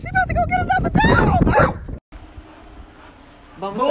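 Dogs barking and yipping at close range indoors, a burst of several sharp barks and whimpering yips up front, with people talking over them, then quieter before a final short yelp.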